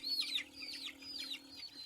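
Chickens on a poultry farm cluck and chirp softly in a quick run of rising calls over a low steady hum, faint and somewhat distant.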